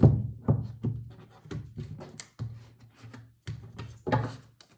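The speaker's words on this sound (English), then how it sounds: "Shuffling for Libra, please." A deck of tarot cards is shuffled by hand in a series of quick riffling and rubbing bursts, each a short papery rustle separated by brief pauses, close and fairly quiet with no talk over it.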